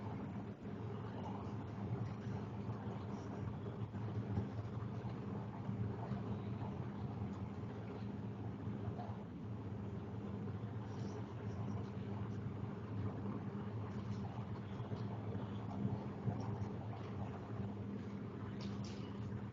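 Small water pump motor in a smart irrigation project, running steadily with a continuous low hum and drone throughout, fairly quiet and without breaks.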